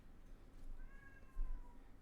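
A cat meows faintly from a distance, a single drawn-out high call with a soft thud just after, over quiet room hiss.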